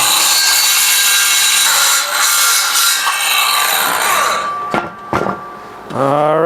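Hand saw cutting through a wooden board for a plant stand repair, rapid rasping back-and-forth strokes, loud and close, ending with a few clunks as the piece comes free and a short voice at the end.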